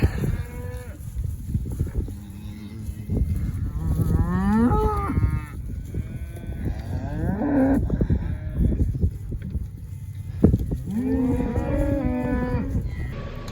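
Cattle moo repeatedly during a ranch cattle-hauling day with feeder cattle and cows, several loud, drawn-out calls from different animals rising and falling over steady background noise.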